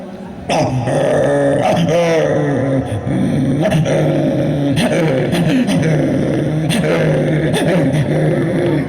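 A voice imitates a yard dog's angry, rough growls and gruff barks in loud, continuous bursts, very close, sounding more human than canine.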